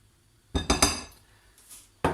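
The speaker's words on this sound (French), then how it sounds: "je récupère ma maryse et je retire donc toute la marinade" A spatula scrapes potato marinade from a bowl, making a quick cluster of three clinking, scraping knocks, a faint rub, then one more sharp clink after a short pause.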